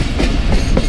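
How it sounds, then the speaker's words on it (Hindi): The 14 Down Awam Express rolls toward Dina railway station, a loud steady rumble of wheels and carriages with faint clickety-clack beats throughout. "दीना रेलवे स्टेशन पे अप्रोच बना रही है 14 डाउन अवाम एक्सप्रेस"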